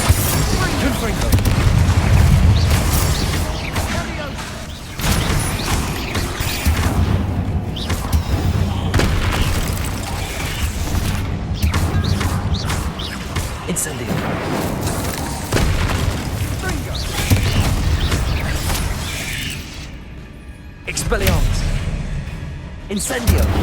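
Repeated Confringo spell blasts from Hogwarts Legacy on Xbox Series X, loud booming bursts layered with crackling combat effects, continuing steadily throughout amid other spell sounds and voices.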